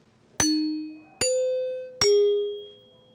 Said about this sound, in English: This is our original set of NBC chimes, one of the few still in existence.